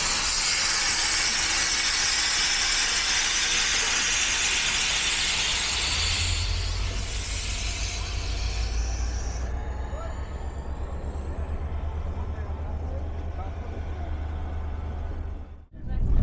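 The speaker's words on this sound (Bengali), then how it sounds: "ঠিক রাত 11:56, 1 মিনিট লেটে আমাদের ট্রেন ছেড়ে দিল" Himgiri Express train pulling out of the station late at night, a steady loud hiss and rumble of the carriages with a deepening low drone as it gets moving, then cutting out abruptly.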